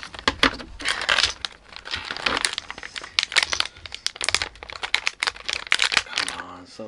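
Plastic wrapping of a mystery toy crinkles and tears close by in busy bursts, with a person talking over the rustling.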